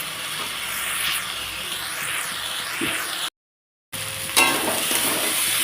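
Vegetable curry being sautéed in a pan, a loud continuous sizzle with spatula stirring and scraping, interrupted by a short silent gap before the frying picks up again with a sharper clatter.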